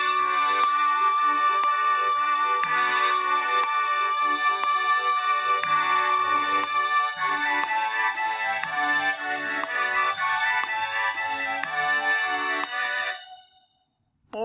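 A Sousa march plays in GarageBand on a Mac, slowed to about 60 beats per minute, a bright synthesized brass-band melody with steady rhythm that cuts off abruptly near the end.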